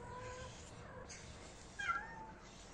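A cat gives one short, faint meow against a quiet indoor background hum, with no talking.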